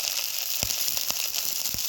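Garlic, ginger and cumin pastes with a little water sizzle in a pan for an egg and potato curry, giving a steady, close hiss with a few faint clinks.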